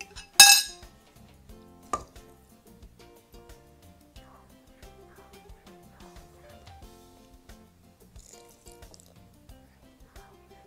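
A utensil stirs cornstarch mixture into peach sauce in a pot: one sharp clank of metal against the pot, a second knock, then quiet, faint scraping and soft clinks, close up.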